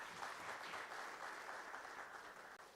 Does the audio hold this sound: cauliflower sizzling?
no